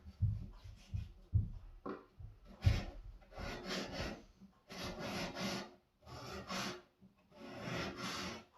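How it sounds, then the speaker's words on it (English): Shear blades are drawn apart and rubbed together to push a sharpening burr back in on a Twice As Sharp scissor sharpener, giving repeated close raspy scraping strokes in short bursts separated by pauses. "pull them apart to push that burr in."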